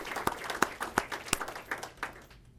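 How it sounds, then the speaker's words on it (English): Audience applause at a board of education awards meeting, a faint, scattered round of claps with distinct individual hand strikes, tapering off near the end. "we will give them a round of applause just the same"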